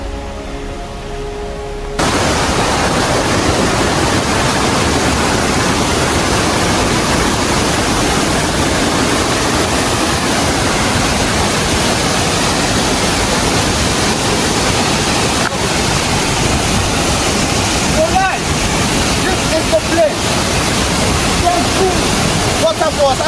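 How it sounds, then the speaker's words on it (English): Chenku Waterfall near Accra roars as a dense, steady wash of falling water, loud and close and unbroken throughout, with a brief quieter moment at the very start. "I don't even know whether you can hear me, but this is Chenku Waterfall."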